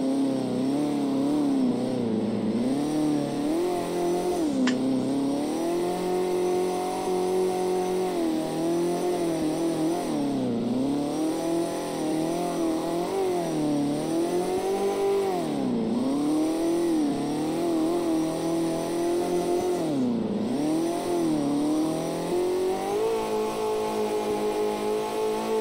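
A car engine in the CarX drifting video game revs and wails continuously, its pitch rising and dipping over and over as the car slides through corners, loud and steady with no talk.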